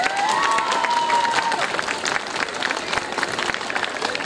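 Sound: applause from crowd

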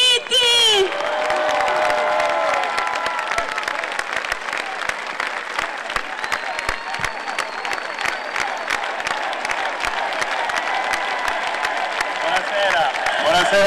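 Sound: crowd applauding and cheering for governor Giuseppe Scopelliti

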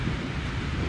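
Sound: heavy rain falling at a roadside stop

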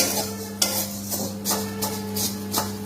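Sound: stirring Maggi noodles dry-roasting in a pan without oil

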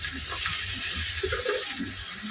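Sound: pouring a little water into curry spices

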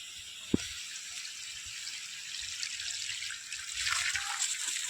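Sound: water flowing into field from irrigation pipe

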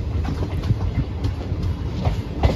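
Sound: Mathura Barmer Superfast Express train running on rails

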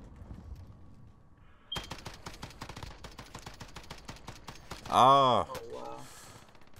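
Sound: gunfire from a sniper in the video game Warzone

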